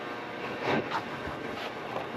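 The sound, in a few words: loud heating system running in auction building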